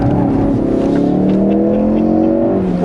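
A Ford Focus RS in drift mode revs hard while drifting on a track in Granada, the engine note held high and loud and climbing steadily with a close, strained whine throughout.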